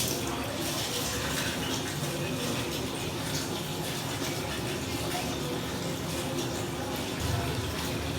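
Plain tap water runs and splashes as a face is washed, a continuous gushing stream with irregular splattering bursts, close and fairly loud throughout.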